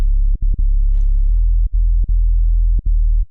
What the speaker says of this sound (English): left this sine wave with an extra harmonic in there just to make it a little bit fatter